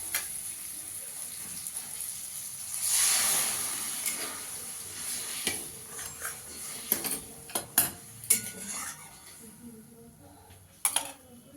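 Hot water poured into frying masala for a paneer curry, a loud hissing rush that swells near the start, then fades into scattered clanks of a spoon against the pan, with a couple of sharp knocks near the end.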